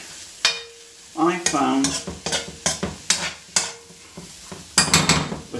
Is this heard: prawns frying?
yes